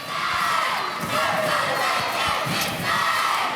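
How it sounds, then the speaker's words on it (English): A big crowd roars and cheers steadily in a high school basketball gym during a Crestview at Choctaw game, loud and continuous with swelling shouts, with no talk over it. "Big crowd here tonight."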